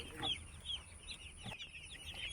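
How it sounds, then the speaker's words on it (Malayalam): Chickens on a large poultry farm holding around fourteen thousand birds cluck in a dense, continuous flock chorus, many overlapping calls near and far with no single bird standing out. "പതിനാലായിരത്തോളം കോഴികൾ നമ്മളിവിടെ നോക്കുന്നുണ്ട്"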